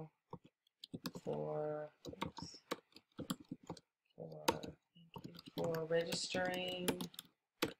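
Light clicking of computer keyboard typing runs in short bursts beneath a presenter's narration while setting up an autoresponder email on a computer.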